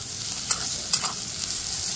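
Garlic and chopped chili stirred in hot oil in a frying pan for potato chops, a steady soft sizzle with a few light scraping clinks of the spoon, close and moderately quiet, no voices.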